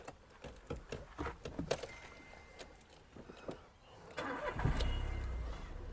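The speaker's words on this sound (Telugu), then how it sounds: "ఫస్ట్ వచ్చేసి నేను మీకు వెహికల్ స్టార్ట్ చేసి చూపిస్తాను ఇంజన్ ఎలా ఉందని చెప్పి" A used car's engine starting, preceded by clicks, clunks and rustling inside the vehicle, then a firm crank that settles into a low, steady idle close by; no one speaks.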